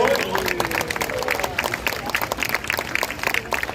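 Crowd applause of thanks at an anti-homosexuality rally in Daegu, a dense patter of clapping that thins out toward the end, with a voice speaking over it near the start.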